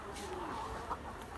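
A layer hen clucking on a poultry farm, a couple of soft low clucks amid faint background hum, fairly quiet and close, with no talk over it.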